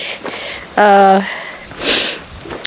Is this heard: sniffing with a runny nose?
yes